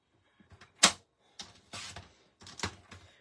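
Paper trimmer cutting card stock for a handmade card, a few sharp clicking and sliding strokes close up, one loud snap followed by quieter scraping cuts.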